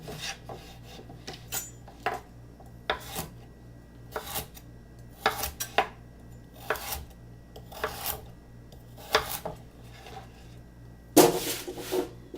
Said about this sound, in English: Throw them on a sheet tray.